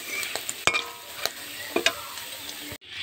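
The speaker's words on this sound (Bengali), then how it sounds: "পনিরটা এইরকম হালকা করে ভাজতে হবে।" Paneer fries lightly in a kadai with a constant close sizzle, punctuated by sharp spatula clinks and stirring scrapes before the sound cuts off abruptly.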